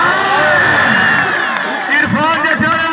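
A loud crowd at an outdoor kabaddi match cheers and shouts continuously, with voices and whoops blending into a dense roar close by.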